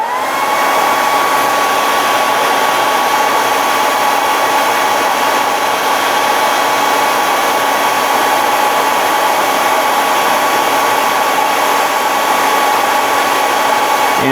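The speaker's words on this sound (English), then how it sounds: "Just a hair dryer." A hair dryer runs on a steady high setting to heat and shrink tubing over soldered wires on a 1/24 scale model bust, a close, loud, unbroken blowing whine that continues at an even level throughout with no talking.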